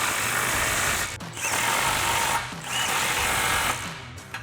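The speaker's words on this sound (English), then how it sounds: "So we'll grab our impact 15 millimeter socket and tighten our two clamps." Impact wrench with a 15 mm socket tightening exhaust clamps on a 2015-2017 Mustang GT cat-back install, heard as a loud, continuous whirring burst with brief dips, close and alone.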